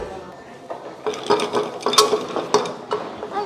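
A wooden hot chocolate frother (molinillo) rattles as it is spun between the palms at a chocolate museum in Puerto Vallarta, Mexico, giving a close, irregular clattering burst by burst under a room's background murmur.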